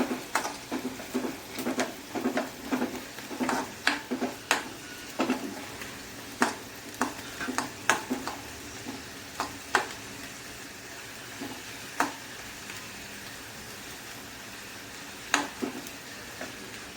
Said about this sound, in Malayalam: പപ്പടം ഇങ്ങനെ വറുത്തെടുക്കുക.